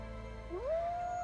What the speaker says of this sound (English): hearing the wolves howl.